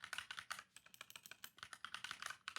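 Rapid, uneven keystrokes clatter on a computer keyboard while code is entered for a GameMaker platformer game, a dense run of close, crisp clicks with no talking.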